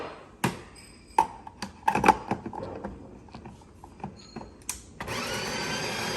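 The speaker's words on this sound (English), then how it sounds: "grinder automatically comes on when you close it" A built-in coffee grinder on a Delonghi or Breville espresso machine whirs steadily, broken by clicks and clunks from the machine, with a louder, brighter grinding burst near the end.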